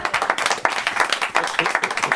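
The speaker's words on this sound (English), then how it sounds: "Give him a big round of applause." A small group claps for footballer Conor Chaplin after a ball-juggling display, distinct close hand claps in a quick uneven rhythm that go on steadily throughout.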